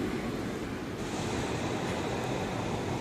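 Stormy wind and churning waves on a lake roar as a dense, constant wash of noise, loud and close, with no voices.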